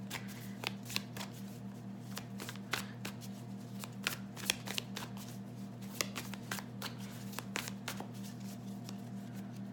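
A zombie tarot card deck is shuffled by hand, giving repeated crisp riffling and slapping bursts in an uneven rhythm over a low steady hum, close and quiet, with no talking.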